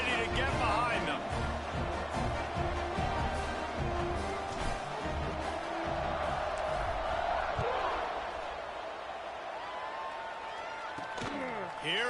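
A college football stadium crowd roars before kickoff at Virginia Tech versus Liberty, a broad sustained cheer with scattered whoops and thumps, fading slightly toward the end under a commentator's voice.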